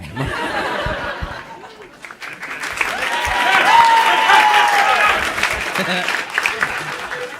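Comedy club audience bursts into sustained clapping with scattered laughter and a few whoops, swelling to a loud peak midway before tapering off, with some voices mixed into the crowd.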